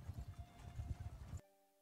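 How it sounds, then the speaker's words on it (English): Horses gallop in Mount & Blade Bannerlord, a quick rumbling run of hoofbeats, fairly close, ending abruptly. "Men on fast horses, robbing caravan."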